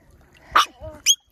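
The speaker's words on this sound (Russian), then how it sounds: "Смотри, собаки как купаются." A couple of short dog barks or yelps from dogs swimming at a British beach, brief and close, with a higher yip at the end.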